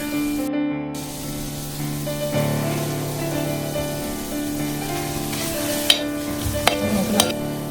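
Ground masala stirred into cooked tomatoes in a pan hisses and sizzles steadily, with spoon scrapes and a few sharp clacks near the end.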